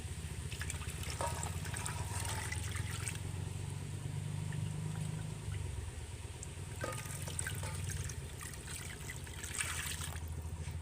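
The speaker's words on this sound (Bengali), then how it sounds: "দেখুন আমি এমনভাবে জলটা দিয়েছি ময়দার ডোটা কিন্তু পুরোপুরি জলের মধ্যে কিন্তু ডুবে রয়েছে" Water running steadily from a tap or jug into a bowl holding a ball of flour dough, a continuous trickling wash with a low hum underneath, close and moderately loud for about eleven seconds.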